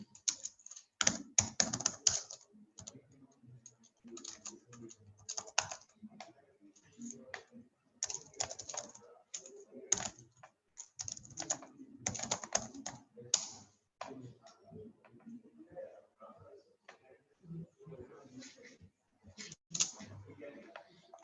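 Keys tapped on a computer keyboard while typing into a chat box during an office training session, an irregular close run of clicks in bursts with short pauses.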